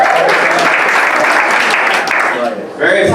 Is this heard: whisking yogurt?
no